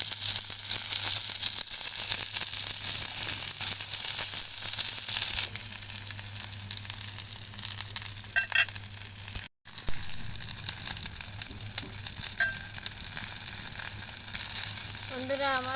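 Shrimp paturi wrapped in gourd leaves fries in hot oil with a loud, continuous sizzle that eases slightly partway through. A brief clatter comes as the parcels are turned, then the frying crackle carries on.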